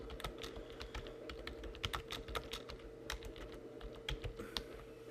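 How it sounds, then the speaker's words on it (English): Typing on a computer keyboard to enter a sentence into a document, with quick, close, irregular key clicks in bursts and short pauses and no speech. "I'm going to type in the morning air still"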